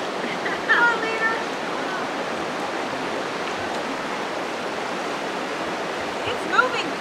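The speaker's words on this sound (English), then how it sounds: "It's moving fast, this water." Fast-moving stream water on a hiking trail in Utah rushes in a steady, dense roar close by, with faint voices briefly audible over the constant flow.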